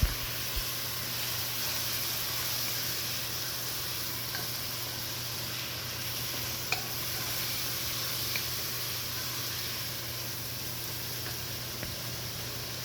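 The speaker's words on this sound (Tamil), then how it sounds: "இப்போ நம்ம சாப் பண்ணி வச்சுருக்கிற தக்காளியை சேர்த்து அந்த மசாலாக்களோட நல்லா ஒரு 2 நிமிஷம்" Chopped tomatoes sautéing with spices in a pan for spinach dal, a soft, even hiss of frying that holds steady throughout, with a few faint utensil ticks and no voices.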